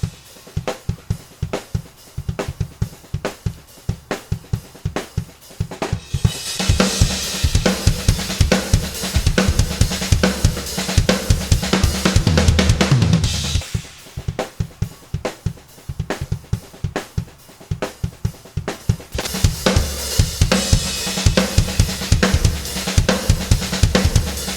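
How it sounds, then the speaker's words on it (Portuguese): An unprocessed raw drum kit recording for a metal band mix drives a fast, busy beat with rapid kick drums and snare, building into stretches of dense crashing cymbals, loud and close with no talking. "Agora vamos ouvir o som da batera sem os plugins."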